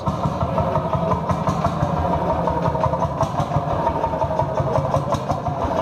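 A tractor engine idles at an outdoor tractor swap meet in Wortel, Belgium, with a steady, close, throbbing mechanical chug that holds level for the whole stretch.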